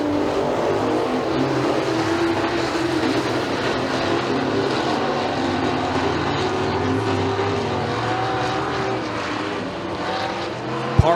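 Pure stock race cars roar around a dirt track at McKean County Raceway, a dense, steady engine drone of several cars sliding through the turns, loud and continuous with no talk.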